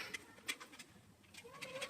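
Pigeons at a small home pigeon farm give soft, faint coos and calls in short scattered bursts, fairly quiet and close, with no talk.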